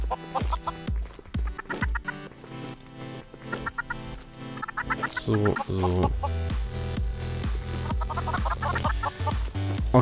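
Chickens clucking in Minecraft, with repeated short clucks and squawks over background music and game sounds, plus a brief spoken word.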